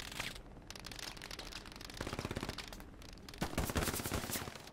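Tank turret gunfire in Hell Let Loose, heard as rapid bursts of machine-gun fire that fill most of the stretch and grow denser and louder toward the end, with no talking over it.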